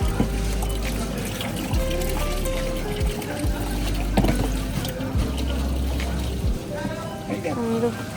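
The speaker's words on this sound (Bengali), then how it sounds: "সেই জন্য আমরা জলও ভরে নিচ্ছি" Water running from a tank tap into a large jar for refilling, a steady gurgling pour with rising pitch as it fills, under ongoing talk from people nearby.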